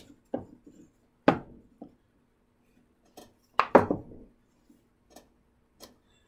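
Two plywood blast gate pieces are fitted together, producing a handful of sharp wooden knocks and taps spaced irregularly, close up with quiet pauses between.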